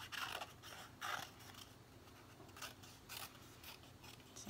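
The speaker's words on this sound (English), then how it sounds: "I'm just going to use some scissors for my little bird." Scissors snip through paper in a series of quick crisp cuts, close and fairly quiet, with short pauses between strokes.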